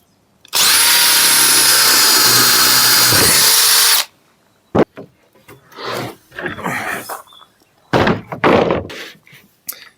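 A power drill bores holes through the floor of a 4x4 Sprinter camper van conversion in one loud sustained burst of about three and a half seconds. Scattered knocks, thunks and handling noises follow.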